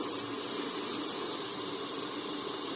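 A steady, loud hiss of steam escaping from a rice cooker, continuous and unbroken throughout, with no voices.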